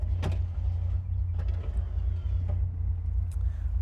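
Driver's-side power window on a 1980 Chevrolet Corvette, with a few brief clicks and short motor whirs sounding close over a constant low engine-like rumble.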